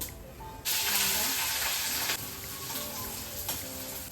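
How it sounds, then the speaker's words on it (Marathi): Cumin, mustard seeds and green chillies hit hot oil and burst into a loud, steady, close sizzle that hisses on without pause, with no talking. "जिरं मोहरी टाकते, हिरवी मिरची"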